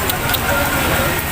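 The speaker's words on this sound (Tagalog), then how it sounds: "Ang lakas ng ulan, eh." Heavy rain pours down outside a restaurant, a dense, loud, continuous hiss and patter with no breaks, while a voice speaks over it.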